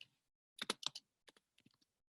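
A handful of sharp keystrokes on a computer keyboard while typing in Korean: a quick cluster of three clicks, a short pause, then lighter scattered taps, close and quiet.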